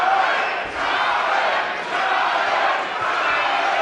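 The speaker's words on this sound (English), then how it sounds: "the chant's gone up for Alaniz" A sold-out boxing crowd at the Melbourne Pavilion chants loudly and steadily for a local fighter, a dense roar of massed voices that dips briefly a couple of times before surging back.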